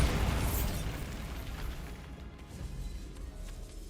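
A Bombarda blasting spell explodes in the video game Hogwarts Legacy: a loud, deep boom at the start that rumbles and fades away over a few seconds into quiet ambience.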